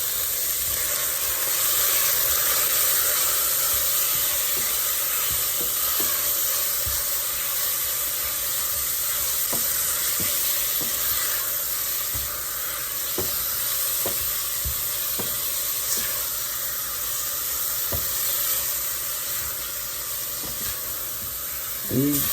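Beef browning in olive oil in a pot for stew, giving a steady hissing sizzle throughout with occasional faint pops and utensil taps, close and even, with no talking over it.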